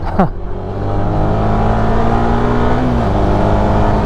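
Honda Winner X ABS racing variant motorcycle pulling away under acceleration, a steady loud engine drone with rising pitch held close throughout, no talk.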